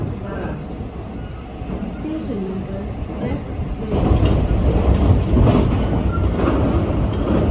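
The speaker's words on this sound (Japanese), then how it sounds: "列車は阪和線をオーバークロスし、最初の通過駅こぼれ口駅を通過します。" A Kintetsu semi-express train runs on its rails, a steady loud rumble with clattering wheels that grows heavier halfway through, heard from on board with a voice talking over it.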